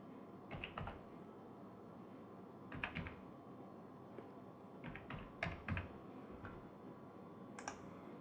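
Keys clatter on a computer keyboard as a headmaster's mobile number is entered during an online school registration, coming in short irregular bursts of quiet taps with pauses between them over a faint steady background hiss.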